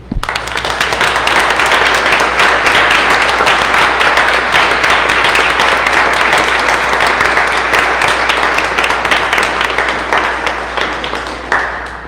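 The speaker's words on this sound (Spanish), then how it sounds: "les invito a que les demos un aplauso de felicitación" A church congregation applauds at the close of a Mass, a loud, dense, steady wash of many hands clapping that runs for about twelve seconds before easing slightly at the end.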